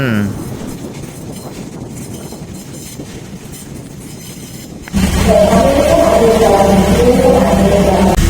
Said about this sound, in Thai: ขบวนรถท้องถิ่นที่ 403 นะครับกำลังเข้าสู่สถานีรถไฟตอน